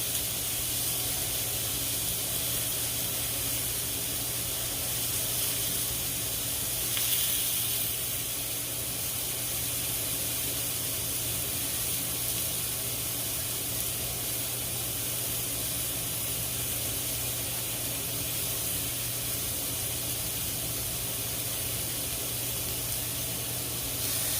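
Turkey burger sizzling on a grill heated to 350 degrees, a steady, dense hiss and crackle that stays loud and even throughout, with no voices.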